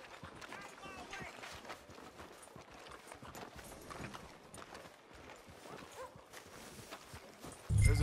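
A horse's hooves clip-clop at a steady walking pace on a town street in Red Dead Redemption 2, a continuous rhythmic patter throughout, ending in a sudden loud low thump.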